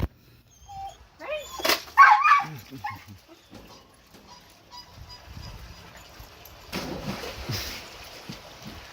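A water dog whimpers and yips in short bursts early on beside a pool, then quieter shuffling and splashing noises follow with a brief rush of water near the end.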